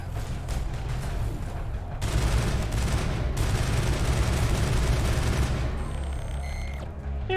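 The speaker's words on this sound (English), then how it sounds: "Switch our assault rifle." Assault rifle fire in the Mass Effect video game, a continuous loud automatic burst with dense, rapid shots over a low, rumbling game background, then electronic beeps toward the end.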